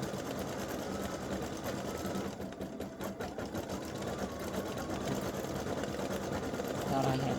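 A sewing machine stitches fabric for a side-seam Easter peeps project, running as a steady close mechanical whir throughout, with a brief slowdown midway and no talk.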